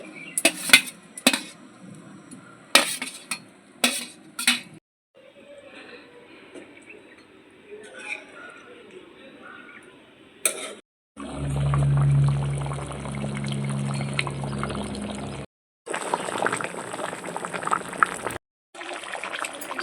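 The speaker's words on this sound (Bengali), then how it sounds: "আর একটু জল দিয়ে দেবো ভেজে রাখা আলুগুলো দিয়ে দিচ্ছি" Water and fried potatoes go into a pot of thin chicken curry. Clinks and scrapes of utensils against the pot come first, then a steady close pour and splash lasting several seconds, followed by more clattering.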